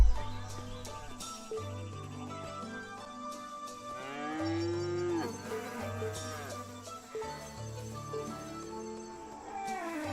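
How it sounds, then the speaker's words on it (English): Cows mooing on a farm in the video game Shenmue III, several long low drawn-out moos overlapping with layered game music and ambience, moderately loud, no talk. "Check out some cows being de-uddered."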